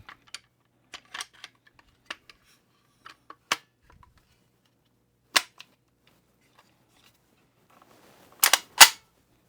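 Sharp metallic clicks and snaps as the upper receiver of a B&T TP9 is fitted back together, scattered single clicks followed by a louder pair near the end, close and otherwise quiet.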